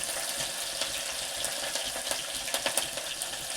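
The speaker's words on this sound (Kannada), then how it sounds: "ಕರಿಬೇವನ್ನ ಹಾಕ್ತಾ ಇದ್ದೀನಿ" Curry leaves hit hot oil with onions and sizzle steadily, with scattered sharp crackles and pops over a quiet bed of frying hiss, heard close up and alone.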